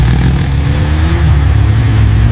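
A motorbike engine runs steadily and loudly at close range, a low continuous rumble with a faint rising tone partway through, no voices over it.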